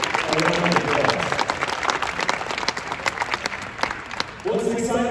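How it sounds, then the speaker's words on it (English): Arena audience applauding at the Siegel Center basketball venue during the introduction of a new coach: sustained clapping and crowd noise with some voices mixed in, steady and fairly loud. "So you guys are doing this a round of applause."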